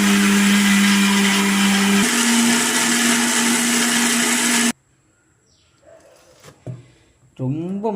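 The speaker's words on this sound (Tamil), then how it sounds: "கல் உப்பு போட்டுட்டு ஒரே ஒரு பச்சை மிளகா இதுலேயே போட்டு அரைச்சிக்கலாம்." An electric mixer grinder whirs loudly, grinding soaked rice, dried chillies, rock salt and a green chilli, its motor pitch shifting once before cutting off abruptly, followed by quiet kitchen clatter and a brief voice.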